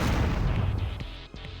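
Weapon fire from a small red robot enemy in Descent 2, a loud run of booming shots and bursts over a rumbling low background, ending in a few sharper pops.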